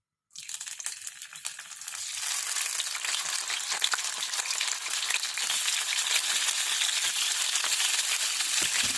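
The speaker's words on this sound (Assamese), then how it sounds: "এতিয়া প্ৰথমতে মই পনীৰখিনি অকণমান ভাজি লওঁ।" Paneer cubes dropped into hot oil, bursting at once into a loud, close, crackling sizzle that builds and holds steady and dense throughout, with no talk.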